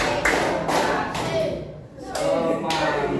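A classroom group performs a rhythmic clapping pattern during a microteaching lesson at an Islamic junior high school, producing several loud, close bursts of claps separated by short pauses.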